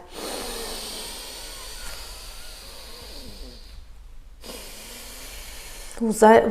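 Slow, steady breathing, a long hissing breath then an exhale, close up during a lower-back exercise routine, with faint background noise and a brief louder sound at the end.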